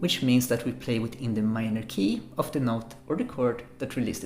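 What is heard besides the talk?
No everyday noises stand out.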